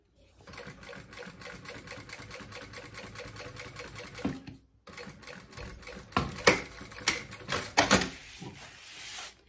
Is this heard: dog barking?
no